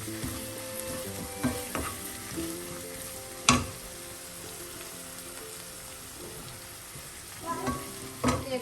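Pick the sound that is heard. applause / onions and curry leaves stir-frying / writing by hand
onions and curry leaves stir-frying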